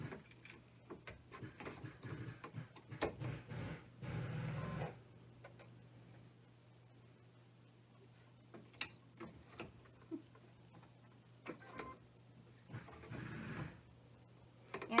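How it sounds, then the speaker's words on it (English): An embroidery machine stitching a tack-down on fold over elastic in a small 4x4 hoop, with bursts of soft rapid ticking and whirring between quiet gaps and a low steady hum underneath. "Let's go ahead and run that tack down for the fold over elastic and see how it looks after that."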